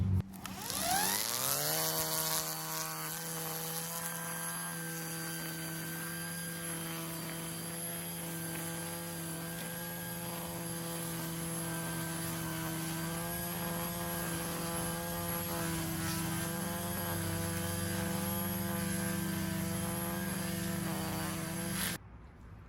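A HART 40-volt cordless brushless string trimmer spins up in the first two seconds, then runs for about twenty seconds at a steady, loud high-pitched whine with a strong motor hum and no talking, and cuts off at the end.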